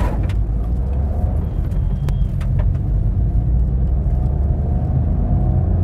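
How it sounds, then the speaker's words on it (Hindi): A 2024 Maruti Swift VXI launches hard from a standstill with wheel spin, its engine a loud, steady low roar heard from inside the cabin, with a few brief clicks and knocks over the rumble. "भाई गाड़ी व्हील स्पिन तो मार रही है दबा के"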